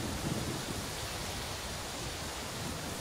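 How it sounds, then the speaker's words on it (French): Heavy tropical downpour pounding a rainforest canopy, a steady, dense hiss of rain that stays loud and even throughout, with no voices. "Un véritable déluge s'abat sur la canopée."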